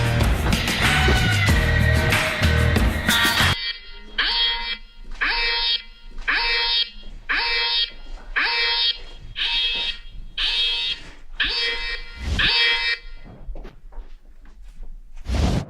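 A home motion detector alarm goes off indoors when a door is opened. A short burst of loud noise comes first, then a loud, close run of rapid pulsing siren beeps, about a dozen in a steady rhythm.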